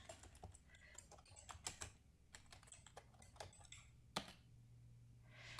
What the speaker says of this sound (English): I'm typing in the Instagram chat.